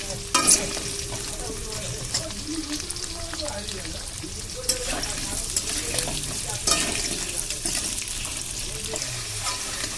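Potatoes frying in a pan for a pumpkin and hilsa fish curry, a steady crackling sizzle with occasional stirring scrapes throughout.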